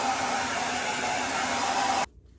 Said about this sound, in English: I just gave it a little bit of a rough blow dry